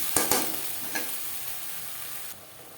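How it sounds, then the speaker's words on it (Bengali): Onion and garlic hit hot oil in a wok, giving a couple of sharp spatters followed by a soft, steady sizzle with light stirring, close and fairly quiet, with no voices. "কড়াইতে আবারও তেল দিয়েছি এবার দিয়ে দেবো পেঁয়াজ রসুনের"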